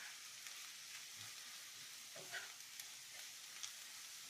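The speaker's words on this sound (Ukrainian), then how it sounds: "І так само пару хвилин просмажуємо." Mushrooms fry in a pan with a soft, continuous sizzle and faint crackles, quiet and steady throughout, with no one talking.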